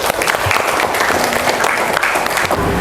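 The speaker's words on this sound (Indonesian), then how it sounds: "Beri tepuk tangan untuk Juita." A classroom full of students applauds a classmate, a continuous wash of many hands clapping at steady volume for a few seconds.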